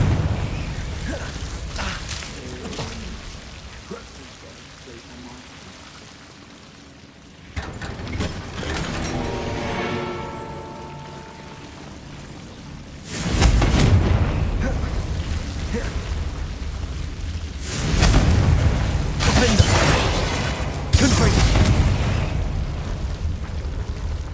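Fire-spell blasts in the Hogwarts Legacy video game: loud, broad booming bursts that strike in several waves and ring out over a steady background of game ambience.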